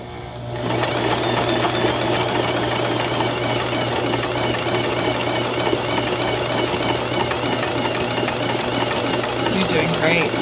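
A sewing machine runs steadily, stitching a zipper sack up to a top corner with a back stitch, its dense mechanical hum loud and continuous for about ten seconds after a brief quiet start.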